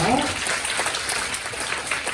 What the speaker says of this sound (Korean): 큰 박수 좀 한번 보내주세요.